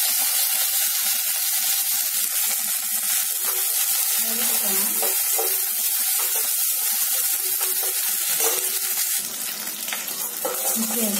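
Mustard seeds and curry leaves sizzle and crackle in hot sesame oil, a bright, busy frying hiss with popping spurts, close and loud, easing slightly toward the end.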